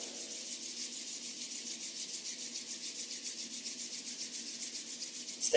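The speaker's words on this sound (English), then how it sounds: "rub our palms together" Palms rubbing together during a gentle mindful-movement exercise, a steady close hiss of skin on skin with a regular back-and-forth pulse, heard alone without talk.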